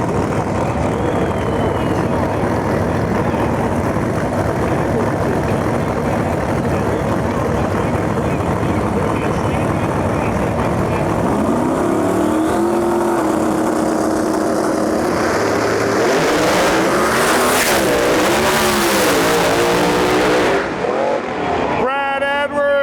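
Two drag cars race a Pro 275 final at Lights Out 16: a twin-turbo SN95 Mustang against a Procharger-supercharged Chevy II. A steady engine drone builds into loud, rising and falling engine wails, with a commentator's voice heard at times.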